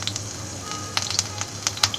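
Green chilies hit hot mustard oil in a pan, giving a steady close sizzle with a few sharper crackles and spits.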